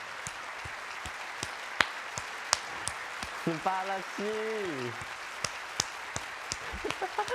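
Sparse, scattered clapping from a stage audience after a performance, sharp isolated claps spread across the moment over a soft room hum, with people talking and exclaiming in between.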